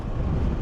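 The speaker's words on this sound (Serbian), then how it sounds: "u ovom ovde položaju tačno mi šalje vetar u nos i u lice" Wind buffets the rider of a Sym Joymax Z 300 scooter at speed, a brief, loud, rumbling roar of air against the microphone with no other sound.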